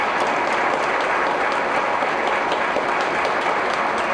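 Dense, sustained applause from a large crowd at a political meeting, a loud even roar of clapping hands that holds steady from start to finish.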